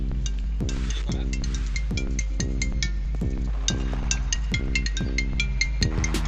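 A mobile phone rings with an incoming alarm call from a Tasslock GPS tracker guarding a bike against theft, a repeating electronic melodic ringtone pattern that loops steadily and clearly, with no voices.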